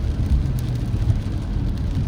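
A car drives a country road in Ontario in winter freezing rain, a steady low engine and tire rumble close inside the cabin with a soft hiss of wet road beneath.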